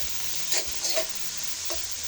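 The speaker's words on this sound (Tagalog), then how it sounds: "Gisay natin ang bawang at sibuyas." Garlic and onion sauté in a pan, a faint steady sizzle broken by a few soft stirring scrapes, heard alone without talk.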